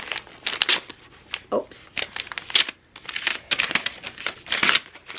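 Paper wrapping torn and crinkled off a book in repeated short rustling bursts, close and fairly loud, with a person talking between them.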